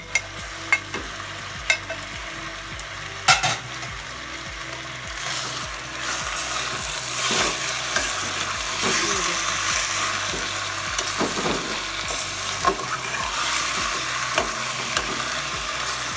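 Tomato and green chillies fry in a kadai, a steady sizzle broken by repeated scraping and knocking of a spoon stirring against the metal, with a few sharp clacks early on and no voices.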